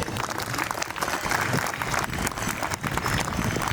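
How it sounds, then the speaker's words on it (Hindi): An audience of students at a school session applauds a speaker, a steady, loud roar of many hands clapping together in a hall with crowd murmur underneath. "शक्तिराज के लिए ताली हो जाए"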